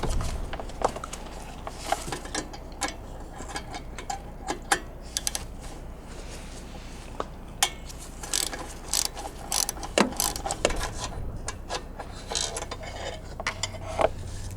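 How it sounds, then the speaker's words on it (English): A ratchet with a 10mm socket removes the carburetor mounting bolts on a Cummins Onan generator, giving quick bursts of close, sharp metallic clicking in an uneven rhythm, with occasional clanks of tools and parts and no speech. "you just use a 10mm socket to get those out"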